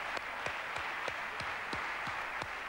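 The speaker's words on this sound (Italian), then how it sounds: "un applauso Nando Paone" A studio audience on an Italian TV talk show applauds the actor Nando Paone, steady crowd clapping heard at a moderate distance, with a few thumps and sharper accents standing out at regular intervals.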